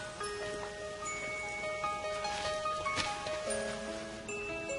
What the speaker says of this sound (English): It was an afternoon dampened by the pouring rain.